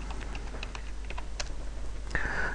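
Typing a yum command on a computer keyboard, a quiet run of separate close key taps in an uneven rhythm, ending in a slightly louder tap, over a low steady hum, with no speech.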